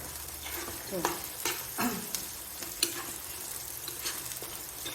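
Soya keema curry frying in oil crackles and sizzles steadily, with repeated scraping stirs of a spoon against the pan at a close, moderate level and no clear speech.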